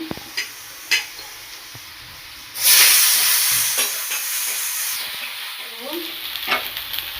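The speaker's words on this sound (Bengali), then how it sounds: "পেঁয়াজটা ভাজা ভাজা হয়ে এসছে" Chopped tomato goes into a pan of frying onions and meets the hot oil with a sudden loud sizzle. The sizzle settles into a steady crackle with a few stirring knocks before and after.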